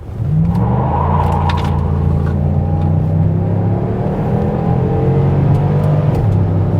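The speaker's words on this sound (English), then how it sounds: "let's just get out into the road real quick and let's just give it some throttle just to see what it does" A 2006 Chevy Impala SS engine revs hard under throttle on the road, a loud steady roar with climbing and falling pitch sweeps, close and continuous with no talking.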